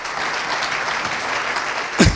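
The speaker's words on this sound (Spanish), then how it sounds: "Oye, un aplauso," Applause from an audience at a presentation event for the 46th Valenciaga memorial, a dense steady patter of clapping throughout, swelling briefly louder near the end.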